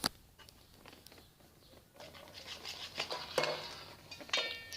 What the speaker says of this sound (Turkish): Tekrardan karıştırıyoruz.